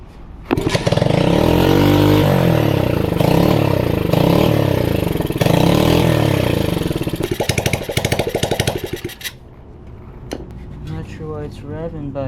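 Old $60 pit bike engine fires up and runs, revving loudly on its own with surging, rattly pulses, then drops to a rough, uneven idle up close.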